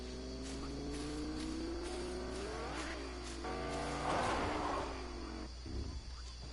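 A stolen car in a video game drives off, its engine revving and roaring steadily over a low hum, with a louder surge of acceleration midway before it fades slightly at the end.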